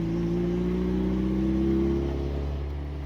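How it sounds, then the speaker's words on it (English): An old, rough car pulls away in rush-hour traffic, its engine droning steadily with a low, even hum that swells slightly before easing off, close and continuous with no talk. "Let's go take this sketchy vehicle for a drive in rush hour traffic."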